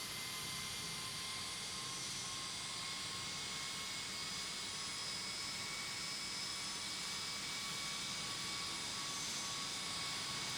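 Southwest jet taking off from runway 28 left at San Francisco International in a tower simulator game, a steady, sustained engine roar with high whining tones, heard alone with no voices.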